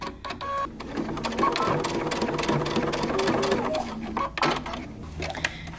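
A sewing machine stitches the side seam of wide-leg pants in rapid mechanical bursts, pausing briefly, then running again, close and fairly loud.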